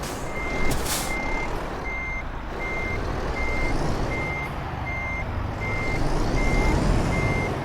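A truck in Euro Truck Simulator 2 reverses while parking, its reversing alarm beeping in an even, regular rhythm over the rumbling engine, with a brief hiss of air brakes near the start.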